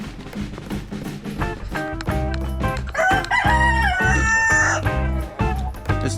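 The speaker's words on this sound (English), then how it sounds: "So here's our chickens" Backyard chickens kept near a boat ramp cluck and squawk close by, and a rooster breaks into a loud, drawn-out crow midway, with overlapping bird calls and no speech.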